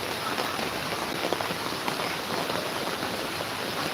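Heavy rain pours down in Sanpada, Navi Mumbai, a close, steady downpour hissing on surfaces with a few louder drops, no voices.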